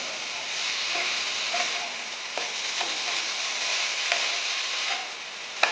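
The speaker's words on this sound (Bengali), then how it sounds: "বাড়িয়ে দিয়ে একটু ভালো করে ভাজা ভাজা করব।" Red amaranth greens with chopped pointed gourd frying in a pan, a steady close sizzle broken by occasional soft clicks and scrapes of stirring, no voices.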